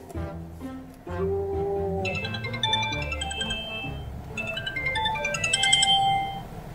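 A melodic phone ringtone for an incoming call plays steadily for several seconds, repeating its tune clearly and fairly close, with no talking over it.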